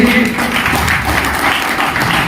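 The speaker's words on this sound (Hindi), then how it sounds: "1 करोड़ के लिए जोरदार तालियां होनी चाहिए।" Loud applause from the audience at a business plan seminar, continuous dense clapping filling the whole stretch at steady volume.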